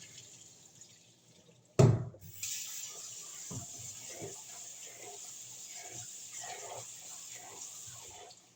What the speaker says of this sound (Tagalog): Yung Japanese rice kasi yung sinasaing ko. Tapos ang tagal kung ano yun, banlawan.